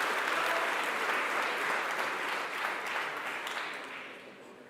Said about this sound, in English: Can we give a massive round of applause?